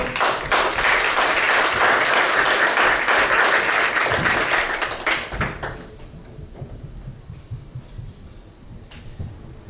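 A church congregation claps during a worship service, a loud steady wash of applause for about five seconds that tapers to sparse claps and low murmuring.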